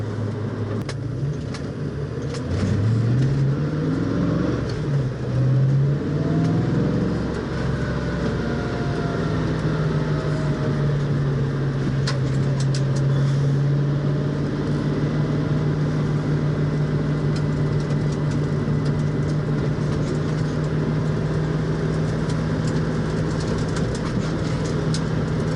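A 1966 Ford Mustang fitted with reworked upper control arms rolls over a road of speed bumps, with a steady engine drone, tires and suspension thumping through the bumps, and a sustained low hum without talk.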